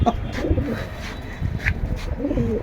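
Pigeons of red patti and military varieties coo at a crowded pigeon market, with soft repeated throaty coos and a few brief calls rising over a dull, busy background.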